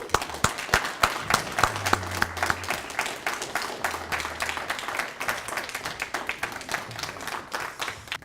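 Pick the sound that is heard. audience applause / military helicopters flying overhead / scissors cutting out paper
audience applause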